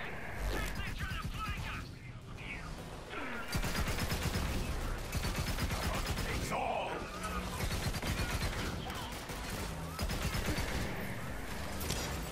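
Explosions and bursts of gunfire from the video game Borderlands 3 pile up in dense, chaotic combat, loud crashes and rapid shots layered over mechanical clatter and game music.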